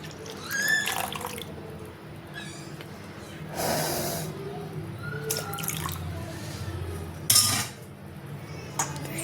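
Milk is poured into a bowl of puha batter, giving soft liquid splashes alongside clinks of a metal utensil against the bowl, close and moderately quiet, with a few sharp knocks.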